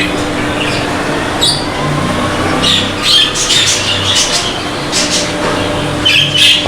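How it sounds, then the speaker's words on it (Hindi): Breeding birds in an aviary squawk in repeated harsh bursts over a constant background hum, several calls overlapping at close range. "कैसे मेंटेन रखा हुआ है इमरान भाई ने अपने बर्ड्स को"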